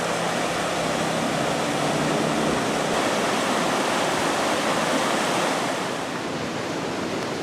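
A waterfall at the Falls of Falloch on the West Highland Way rushes in a dense, steady roar, loud and close, with no voices or other sounds breaking through.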